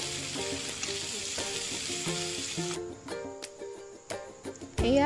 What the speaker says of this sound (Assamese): এইখিনিও ভাজিব লাগিব